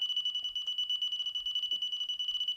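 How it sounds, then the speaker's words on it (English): A Delkim fishing bite alarm gives a rapid run of evenly spaced electronic beeps, steady and fairly close, with a little handling noise underneath. "you can see I'm hitting that line quite hard before I get a beep"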